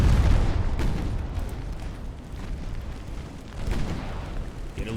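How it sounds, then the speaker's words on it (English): A warship's ammunition magazine detonates in the naval battle game Ultimate Admiral Dreadnoughts, a deep rumbling blast that swells at the start and fades into a long low roar, with further booming surges behind it. "Another ammo explosion."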